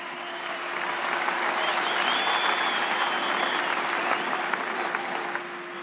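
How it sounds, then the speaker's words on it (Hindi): A large audience at an official public event applauds to welcome Prime Minister Narendra Modi, a dense, steady wash of clapping that swells and holds for several seconds without any speech over it. "आप सब तालियों की करतल ध्वनि से माननीय प्रधानमंत्री जी का हार्दिक स्वागत करें।"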